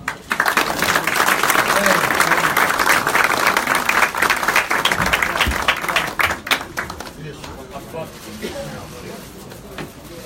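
An audience at a PMDB party membership event claps in loud, sustained applause that fades toward the end, with a voice speaking over the tail.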